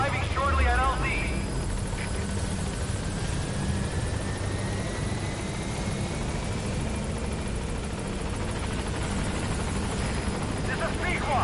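The Pequod helicopter in Metal Gear Solid V hovers at the landing zone, its rotor a loud steady thrumming roar with engine whine throughout, and radio-style speech briefly at the start.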